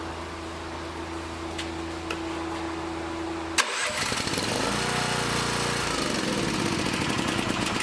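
A lawn mower motor on a jump starter pack: a steady electrical hum, a sharp click, then loud, rough, close mechanical cranking that runs on continuously.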